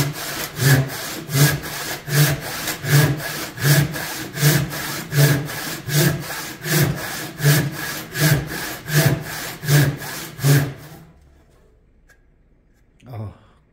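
A hand saw cuts through wood along a pencil line in steady rhythmic strokes, about twenty of them, loud and close, before the sawing stops and a faint knock or two follows in near quiet.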